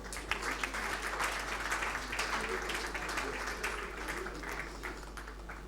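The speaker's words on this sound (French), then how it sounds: "Sous vos applaudissements." An audience at a music awards ceremony claps in a sustained, even round of applause that fills the room, steady and moderately loud for several seconds.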